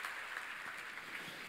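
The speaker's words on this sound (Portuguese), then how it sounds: "Pode dar uma salva de palmas ao Senhor" A church congregation applauds in a dense, continuous wash of clapping, steady and faint, heard from a distance.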